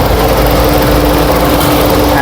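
A 2020 Nissan Almera 1.0-litre turbo car engine running, a loud steady idling hum heard up close with no change throughout.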